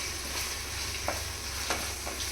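Green chillies and chicken frying in a pan, a loud continuous sizzle broken by a few short scraping stirs of a spatula, with no voices.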